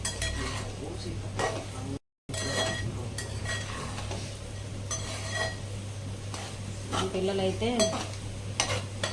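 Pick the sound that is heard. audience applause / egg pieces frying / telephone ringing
egg pieces frying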